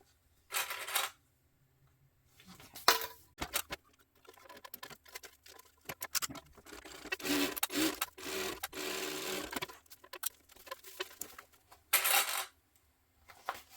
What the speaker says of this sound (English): So I'm just going to sew across the top and then top stitch.